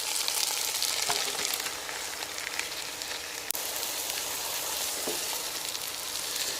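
Chicken frying with onion and tomato for a smoky restaurant-style biryani, a continuous bright sizzle at moderate level with a few soft stirring scrapes, no talking.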